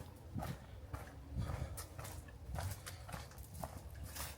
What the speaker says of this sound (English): there are horses